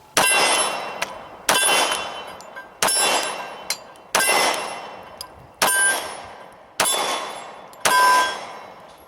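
A Glock 21 pistol firing .45 ACP Remington Golden Saber rounds, seven loud sharp shots spaced about every second and a half, each ringing out, with faint clinks of ejected brass between them.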